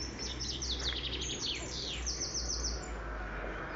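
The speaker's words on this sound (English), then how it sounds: "Many birds here." Many birds chirp and trill in quick overlapping bursts along a residential street in an Italian town, fairly close and steady over a low constant background rumble, with no talking.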